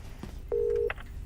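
A telephone line gives a brief electronic tone after a call is hung up, one short steady beep following a couple of faint clicks, close and quiet over low background hum.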